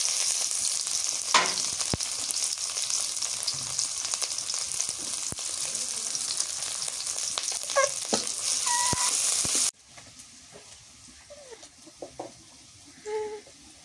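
Onions and green chillies fry in a pan with a loud, dense hiss and a few stirring knocks, then the sizzle drops away sharply and a chicken clucks faintly nearby.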